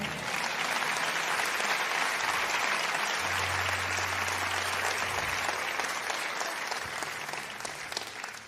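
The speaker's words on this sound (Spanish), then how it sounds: "Alguien déle el aplauso al Señor" A church congregation breaks into sustained, loud applause during a sermon on spiritual fasting, a dense, even wash of clapping that barely tapers toward the end.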